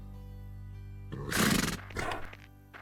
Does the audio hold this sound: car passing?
no